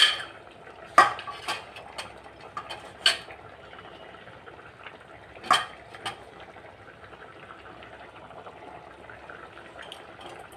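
A spoon scraping and clinking against a pot of curry being stirred after ground cumin goes in, a few sharp clanks over a quiet simmering hiss, then mostly soft bubbling.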